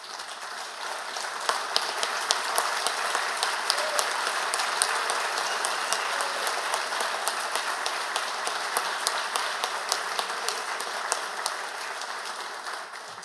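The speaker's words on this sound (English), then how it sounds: "we could give them a round of applause" Sustained applause fills the room at an audio engineering society lifetime achievement awards ceremony, a dense, steady wash of many hands clapping for over thirteen seconds with no talk over it.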